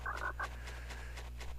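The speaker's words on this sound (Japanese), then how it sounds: "あ、カエルがいた。 カエルいるけど。" Frogs croaking in the Gift Pia video game, a few short bright croaks at the start over a steady low background hum, then quieter repeated chirps fading into the ambience.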